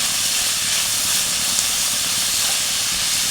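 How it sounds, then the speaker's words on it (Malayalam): Onion and green chilies sauté in a pan for masala dosa, giving a steady, close, loud hiss of frying with no talking. "ഒരു മൂന്ന് പച്ചമുളക് മുറിച്ച് വെച്ചിട്ടുണ്ട് അത് ഇതിലേക്ക് നമുക്ക് ചേർക്കാം നന്നായിട്ട് തന്നെ നമുക്ക് ഇളക്കാം"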